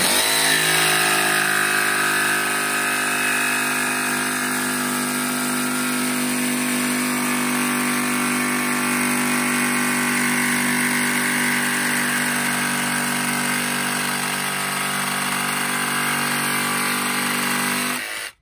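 A DCA AMQ65 electric jigsaw runs at its maximum sixth speed setting, cutting with a loud, steady, close motor whine and blade buzz that holds unbroken for nearly twenty seconds, then stops abruptly.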